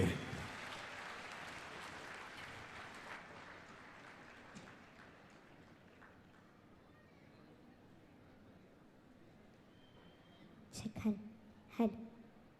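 An audience claps loudly for a young girl about to sing at a community gathering, a dense burst of applause that is strongest at the start and fades gradually, followed by a couple of brief thumps near the end.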